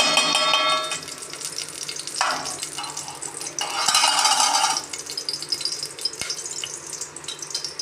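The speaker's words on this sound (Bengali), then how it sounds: "এবার ঘিটা দিয়ে দিচ্ছি।" Ghee goes into a hot pan while making mushroom payesh, bursts of bright sizzling and frying that rise and fade, with stirring scrapes and a sharp metallic tap, loud and close, no talking.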